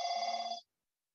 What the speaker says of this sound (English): I have to really stop the phone.